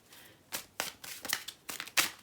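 Tarot cards being shuffled by hand in several quick riffling bursts with short pauses between them, close and clear, with no talk.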